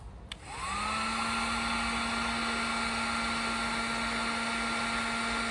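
A heat gun clicks on and spins up into a steady, loud whining blow while heating PVC pipe, holding an even drone throughout.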